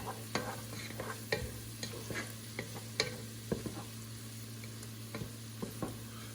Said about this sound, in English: so we're gonna add some minced garlic. Okay, so we added that. Mix that up a little bit.